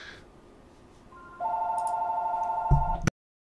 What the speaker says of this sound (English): Of course, the house phone rings.